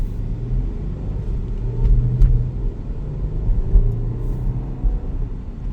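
A supercharged 2013 Audi Q7 3.0T, suffering misfires and oil mixing with coolant, accelerates on a test drive with a low, steady rumble from inside the cabin, swelling slightly as it gathers speed.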